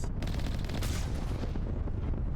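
Heavy booming cannon blasts in Mass Effect Legendary Edition fire in quick succession, dense and loud, with a rumbling low end and a sharp crack at the start.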